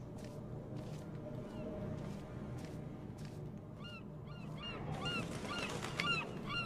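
A bird in the video game Dear Esther repeats honking, goose-like calls over low ambient game sound, with the calls growing denser and louder toward the end.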